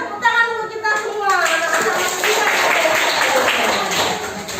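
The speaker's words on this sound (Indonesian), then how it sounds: "Tepuk tangan untuk kita semua." Classroom of children clapping their hands together, a dense burst of applause that starts after a moment of young voices and keeps going steadily to the end.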